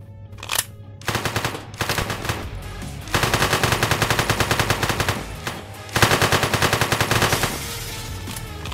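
Loud automatic gunfire from the video game One Armed Robber, rapid repeated bursts with short gaps between volleys and no talking over them.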